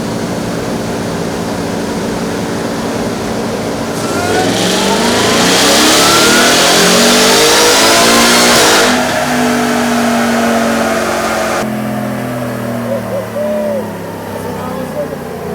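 Ford F-150 Raptor R truck on a chassis dyno in 5th gear, its engine roaring loud and close as it climbs through a long wide-open-throttle pull, then drops back to a lower drone.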